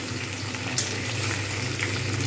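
Flat beans fry in a pan for a cauliflower and bean curry, giving a steady, dense sizzle that holds at an even, fairly loud level throughout.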